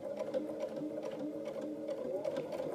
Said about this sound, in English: and I'm around here, I'm just sewing.